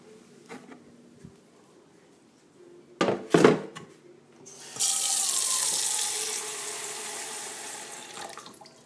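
Water from a tap runs into a dog's water dish, a steady gushing stream that starts after a few soft knocks and thunks and then fades slowly as the dish fills.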